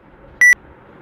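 A Xiaomi Mi Band 3 find-device alert sounds on the phone: one short, loud electronic beep of about a tenth of a second in an otherwise quiet room, with no talking.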